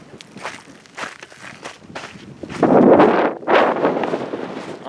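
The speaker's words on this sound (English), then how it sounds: "hopefully that wind dies down a little bit once I get deeper into the cone here." Gusty wind buffets the microphone at the top of a volcanic crater cone, with footsteps crunching underfoot, building to loud, roaring gusts in the second half.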